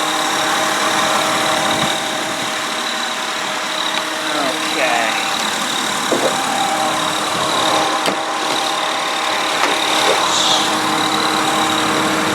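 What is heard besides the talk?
2001 Honda Odyssey 3.5 liter V6 engine idling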